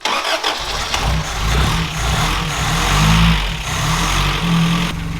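A car engine idles steadily close by after new spark plug wires were fitted, with its carburetor in poor shape. It gives a continuous low, even rumble for the whole stretch, and nobody speaks.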